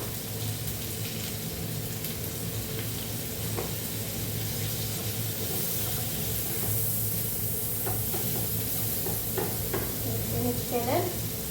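Sausage and onion sautéing in a pan, a dense, steady sizzle with occasional light utensil scrapes, up close and without talk.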